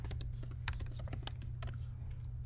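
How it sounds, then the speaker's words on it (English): Typing on a computer keyboard, a quick, uneven run of close key clicks over a low steady hum, with no voices. "Typing."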